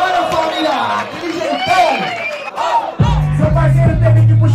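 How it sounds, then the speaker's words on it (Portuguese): A rap battle crowd whoops, yells and cheers in loud bursts, then a thumping beat kicks in under the continuing crowd noise. "Palmas pra batalha, família!"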